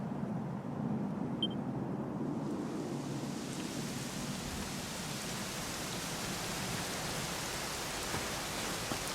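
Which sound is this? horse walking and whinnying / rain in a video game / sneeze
rain in a video game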